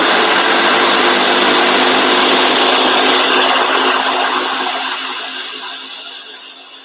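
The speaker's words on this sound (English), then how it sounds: "this is just going to help with kind of mixing everything together in the blender" A blender pulses jalapeño hummus in a kitchen, its motor roaring loud and close, then winding down and fading out near the end.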